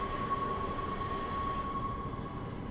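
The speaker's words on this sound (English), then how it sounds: "There's a Fremantle train." A Transperth Fremantle line train, a four-car A-series set, hums steadily at the Perth station platform with a constant electrical whine, a few high tones and low rumble, heard at moderate distance with no talk.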